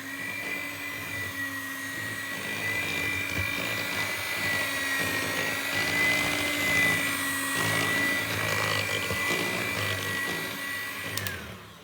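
An electric hand mixer whirs steadily through flour, potato starch and baking powder for a holiday cupcake batter, a constant close motor whine with slight shifts in pitch and no talking.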